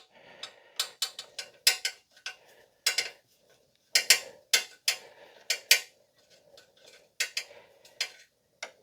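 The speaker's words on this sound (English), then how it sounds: "this is where your Phillips screwdriver comes in" A Phillips screwdriver works a screw on a Harley Davidson Limited rear brake, giving close, sharp metallic clicks and scrapes in short bursts separated by quiet pauses.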